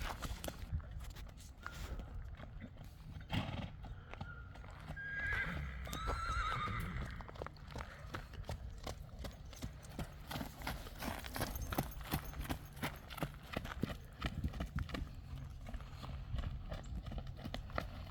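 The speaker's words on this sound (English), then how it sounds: "And just like that, this horse is back in motion." A horse whinnies once amid a steady stream of hoof clip-clops and scuffing steps, close and fairly quiet, with faint voices in the background.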